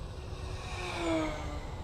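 A Durafly Excalibur RC jet makes a full-throttle pass, a faint high whine that swells briefly and then fades as it goes by at a distance.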